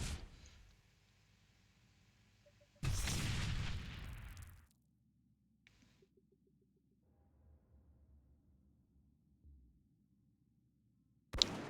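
In the video game Dreadlands, a loud blast roars up suddenly, lasts about two seconds, then cuts off. Faint shots and clicks follow over a low game hum, and a sharp final crack closes it.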